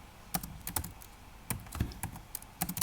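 Keys on a computer keyboard clatter in irregular bursts of quick taps while C code is typed, close and fairly quiet, with no talking.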